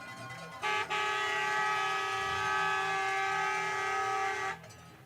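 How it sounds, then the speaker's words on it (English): A train horn blasts from a distance at a school sports game, one long sustained chord-like tone lasting about four seconds over low crowd murmur. "You can hear the train horn."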